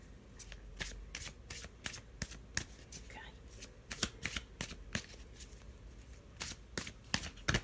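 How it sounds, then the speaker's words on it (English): Tarot cards are shuffled close up in quick repeated riffles and snaps, a rhythmic flurry of crisp papery slaps. "just have a shuffle"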